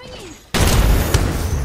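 After a quieter moment, a sudden loud burst of gunfire erupts in the shooter game Apex Legends and continues as a harsh, sustained barrage up close.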